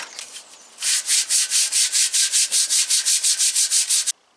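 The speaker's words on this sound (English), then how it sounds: "I just finished sanding with a medium grit sandpaper" Medium-grit sandpaper rubs back and forth over a pogo stick in a fast, even rhythm of about a dozen scratchy strokes, close up, with no voices.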